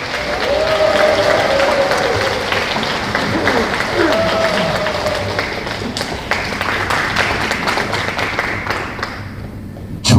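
Loud, dense applause from an audience at a security lecture event welcoming a speaker to the podium, a continuous roar of many hands that fades slightly toward the end, with voices mixed in.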